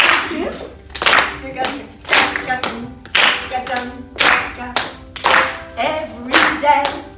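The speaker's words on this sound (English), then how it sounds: "Please, can you clap your hands?" An audience claps hands together in a steady rhythm, sharp bursts of clapping arriving about once a second with a musical tone sounding between them.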